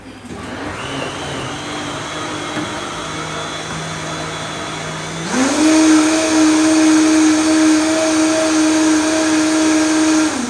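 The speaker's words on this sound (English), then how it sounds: "I am going to just puree everything into the blender" A blender purees eggs with other ingredients, its motor whirring steadily before jumping to a louder, higher-pitched roar that holds to the end, close and continuous with no talking.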